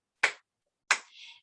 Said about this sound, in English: Will you help me clap?